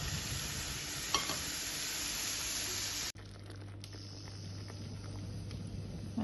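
Sausages simmer in gravy in a pan, giving a soft, steady bubbling hiss close by with a faint knock and a brief break partway through, no talk.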